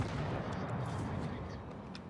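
A warship's gun firing in the naval battle game World of Warships, a dense rumbling boom that rolls on for about two seconds and fades slightly.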